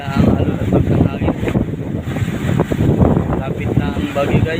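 Strong wind buffets the microphone aboard a small boat at sea, with broadband roaring gusts and rough wave wash continuing steadily and loud throughout, as a storm approaches.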